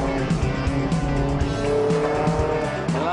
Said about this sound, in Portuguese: Ela tá acelerando muito cedo aqui